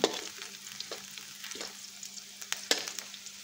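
Onion sautéing in oil in a pan, with a quiet continuous sizzle broken by a few crisp scraping strokes of a spoon as it is stirred, close and without talk.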